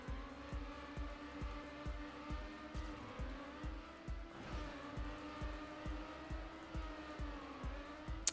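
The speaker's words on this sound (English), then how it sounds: "You could hear the engine slow down." A car engine from Trackmania Nations Forever revs in a fast, regular pulsing rhythm that rises and dips with gear changes, accompanied by a faint tire squeal. It plays alone, loud and close, and no one speaks.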